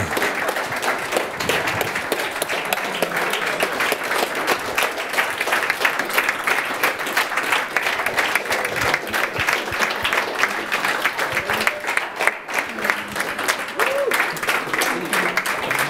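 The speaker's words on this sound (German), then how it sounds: "Das ist euer Applaus, genau." At a youth hackathon's closing presentation, the audience claps steadily and continuously for the mentors on stage. The dense, even applause carries on for a long stretch, with a faint voice briefly audible.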